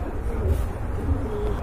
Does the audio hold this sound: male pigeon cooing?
yes